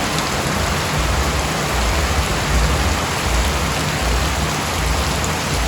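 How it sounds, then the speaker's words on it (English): Heavy rain pours down steadily, a dense, loud hiss of water drumming on surfaces with no break throughout. "it just started pouring real hard"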